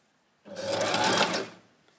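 A sewing machine runs a zigzag stitch on fabric with a small elastic, one short close whirring burst of about a second with quiet before and after.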